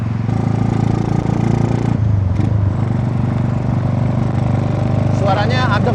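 A brat-style cafe racer motorcycle engine runs steadily at close range with a low, even hum, briefly dipping in pitch partway through.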